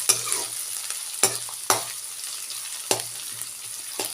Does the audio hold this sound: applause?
no